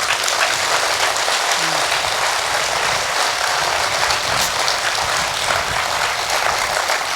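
Sustained audience applause fills a hall during a Kannada spiritual discourse, a dense, steady clatter of many hands that stays loud and even throughout, with no voice above it.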